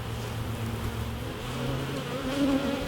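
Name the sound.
honey bees buzzing at a hive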